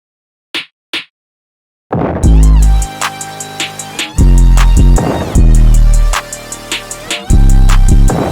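Two short snare cracks sound alone, then a sample beat comes in loud with booming bass and the snare landing in a steady, driving rhythm.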